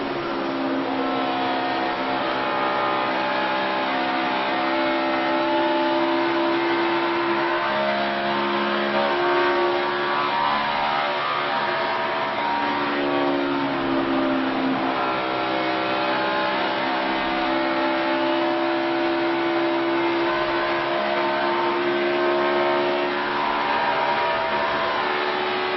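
A NASCAR Sprint Cup race car screams at full throttle during final practice at Texas, a loud, continuous engine roar with gentle pitch swells as it drives through corners, heard as a steady broadcast feed without pauses.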